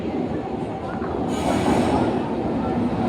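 A passenger train pulls into a station with a loud rolling rumble that swells midway and stays close and heavy.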